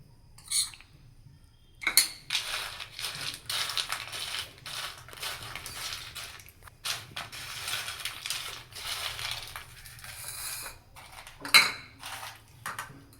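Fried peanuts are tossed with spice masala in a metal vessel, making a dry rattling clatter of nuts against metal in irregular bursts, with one sharp scrape near the end.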